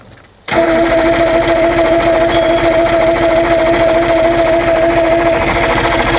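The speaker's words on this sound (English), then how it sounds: "Let's give it a little throttle." A 2000 Johnson 90hp outboard motor kicks in abruptly and keeps running with throttle applied, a loud, steady, buzzing drone held close up until the end.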